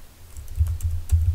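A cp command being typed on a computer keyboard while setting up Void Linux with DWM: a short run of close, crisp keystrokes in quick irregular rhythm, with no voices.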